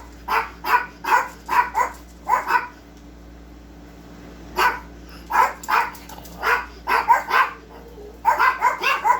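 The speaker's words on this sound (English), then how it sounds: "They're all barking." Several dogs barking in a home, in repeated bursts of yaps and barks with a pause midway, fairly close and loud, with no talk.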